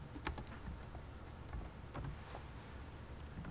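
Password keystrokes on a computer keyboard, a quiet run of light, irregular clicks and taps close by, spaced in small bursts over faint background hiss, with no talking.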